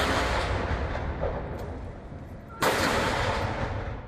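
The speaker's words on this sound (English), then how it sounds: "With a 19-gun salute, Taiwan President Lai Ching-te welcomes St. Vincent and the Grenadines Prime Minister Godwin Friday" A 19-gun salute welcomes a prime minister on a state visit in Taipei, Taiwan: heavy booming artillery blasts roll through a steady outdoor rumble, with one sharp, loud report standing out partway through.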